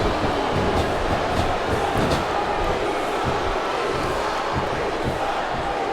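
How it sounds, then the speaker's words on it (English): A capacity arena crowd roars without break in the WWE SmackDown vs. Raw 2007 video game, a dense, loud wall of cheering that holds steady throughout. "this capacity crowd is on its feet"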